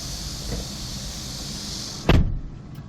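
An electric folding side mirror on a 2023 Hyundai Porter 2 Super Cab one-ton truck whirs for about two seconds with a steady motor hum, then ends in a sharp, louder clunk as it locks into place.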